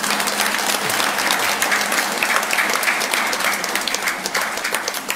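A congregation at a Catholic Sunday Mass applauds the children celebrating their group's 40th anniversary, a loud, full, sustained round of clapping from many hands in a large hall that holds steady throughout.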